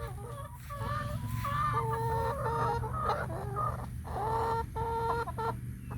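Chickens clucking and calling at the Fort Christmas historical farm in Florida, several birds close by with repeated overlapping clucks and a few drawn-out squawks over a low outdoor hum, no talk.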